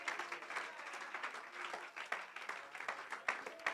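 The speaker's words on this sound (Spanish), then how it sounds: "Fuerte ese aplauso para Jesús." Church congregation applauding, a steady spatter of many hands clapping at moderate distance, fairly faint, with soft voices mixed in the background.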